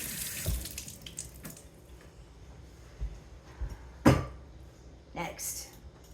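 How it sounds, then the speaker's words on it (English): A peeled potato is rinsed under running tap water at a kitchen sink, the flow broken by bursts of splashing and a few louder knocks, with faint talk in the background. "I always rinse my potato off after I peel it."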